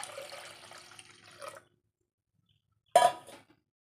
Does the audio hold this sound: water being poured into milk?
yes